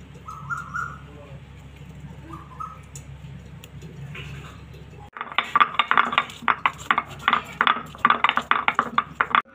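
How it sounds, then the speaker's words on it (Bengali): Cardamom pods crushed to powder in a home kitchen while milk thickens for mango kulfi; a low quiet hum gives way halfway through to rapid, close, repeated pounding and grinding clatter. "এদিকে এলাচটা আমি গুঁড়ো করে নেব।"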